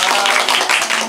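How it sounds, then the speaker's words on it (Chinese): Wedding guests clapping loudly and continuously in a quick burst of dense, overlapping applause, with a voice over the top. "来掌声在那里。"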